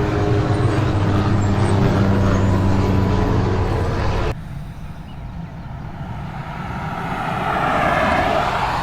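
A car drives along a road past roadworks where pavement is being replaced, its engine and road noise steady and loud, dropping briefly midway before building again.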